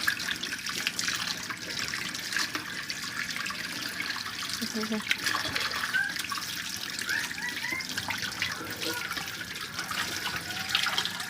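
Tap water runs steadily into a sink while tilapia fish are washed by hand, a continuous close splashing trickle with faint clinks and a voice speaking briefly underneath.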